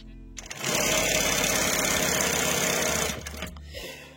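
A Sewmaq SW-2220 double-needle sewing machine runs at speed for a few seconds, a loud, close mechanical whir that starts abruptly and stops just as suddenly, with no talking.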